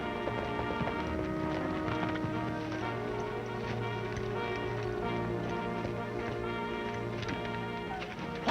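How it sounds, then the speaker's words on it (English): Horses pull a stagecoach on a western trail, hooves clip-clopping in a steady rhythm beneath a loud, sustained orchestral film score, with the hoofbeats partly masked by the music. "Pull up them horses, driver"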